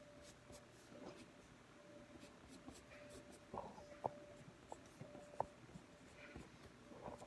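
Pencil or pen scratching across paper while a tree is drawn, quiet soft strokes in short bursts with a few sharper taps, close and faint with no talking.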